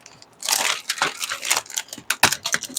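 Plastic casing of a Microsoft keyboard cracks and shatters as it is pried apart by hand, giving a close series of sharp irregular crunches and snaps in quick succession, with no talking.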